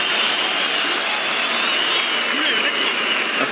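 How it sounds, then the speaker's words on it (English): A raucous boxing crowd roars steadily at Roland Garros in Paris, a dense, unbroken wall of cheering and applause with faint chanting voices. "An emphatic stoppage performance in front of a raucous crowd chanting his name here at Roland Garros."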